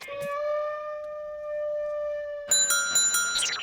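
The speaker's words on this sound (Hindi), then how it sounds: "घंटी मत बजाना।" An electronic doorbell chimes with a sustained ringing tone, then a brighter burst of rapid chime notes follows near the end.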